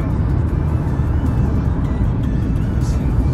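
A car cruises along a road with a steady, close rumble of engine and tyre noise, with no clear voices.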